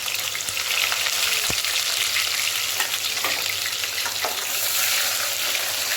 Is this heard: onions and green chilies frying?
yes